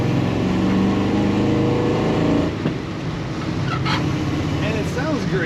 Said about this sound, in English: The exhaust note is very nice on this truck.